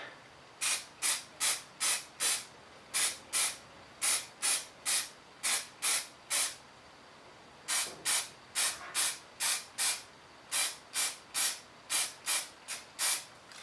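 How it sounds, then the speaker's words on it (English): Short bursts of spray paint hiss repeat in a steady rhythm onto a model tank's guns, about two dozen quick blasts close up, with a brief pause midway. "we do a bit of spraying the guns"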